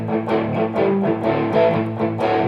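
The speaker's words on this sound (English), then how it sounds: "a boogie-woogie lick are those licks that sound like this." A boogie-woogie lick on electric guitar, in a rock and roll style, bounces along in a lively rhythm of repeated plucked notes, close and clear with no talking.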